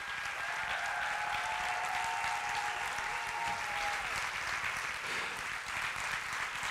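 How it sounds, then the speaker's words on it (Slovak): Steady applause from a large audience at an awards gala in a hall, a dense continuous wash of clapping lasting several seconds with a faint tonal whine running partway through. "aj to si zaslúži jeden veľký potlesk. A udržte ho"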